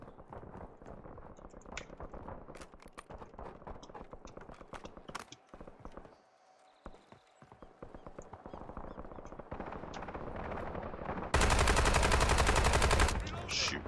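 Rapid gunfire in the video game Warzone, aimed at a doorknob: dense, sharp shots crackle steadily, pause briefly, then build back up into a loud, sustained burst near the end.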